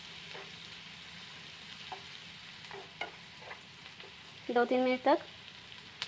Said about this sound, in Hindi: लाल ब्राउन होने तक हम फ्राई करेंगे, हल्का ब्राउन हो जाएगा